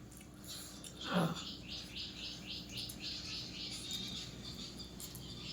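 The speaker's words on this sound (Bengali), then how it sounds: "বাইরে কি সুন্দর পাখির ডাকছে দেখ।" A few faint bird chirps and a quick rising call against a quiet room background, with a soft repeated twittering in the distance.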